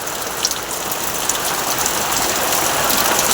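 Heavy rain pours down steadily in a dense, even hiss with scattered drop impacts, loud and continuous with no voices.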